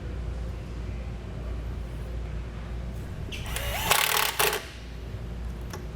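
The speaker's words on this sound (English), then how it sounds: "we can use the provided self-tapping screw to get it secured" A self-tapping screw is driven in with a power driver to secure a ring terminal on a trailer wiring kit. It makes one short whirring burst of about a second against a quiet background.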